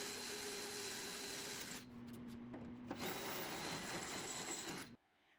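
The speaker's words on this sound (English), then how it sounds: "Match drill through the 4 existing holes in the back of the cab" A hand drill bores through four existing holes in the back of a Humvee cab with a partition clamped in place, a steady close whine that drops off abruptly at the end.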